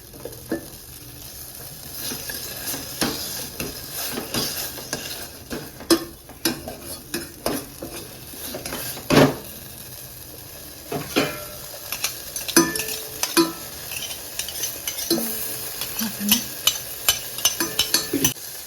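Tomato and egg soup being mashed and stirred in a pan, with a steady sizzle under repeated scraping, clinking strokes of a utensil against the metal, irregular and close.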